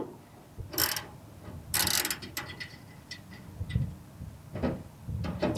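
Lock washer nuts tightened on sway bar mounts of a 1964 Chevrolet Nova SS, heard as several short bursts of ratchet clicking separated by pauses, close and fairly crisp.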